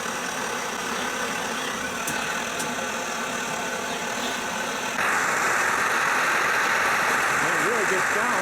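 A Svea 123R camp stove burner roaring, a steady close broadband hiss that grows noticeably louder and brighter about halfway through, with a voice speaking intermittently over it.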